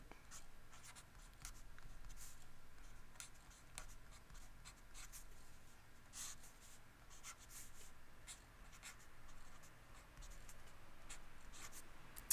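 A pen scratches across paper while an AP calculus problem is worked out, a steady faint scribbling with short strokes and brief pauses running the whole time, close and quiet, with no voices.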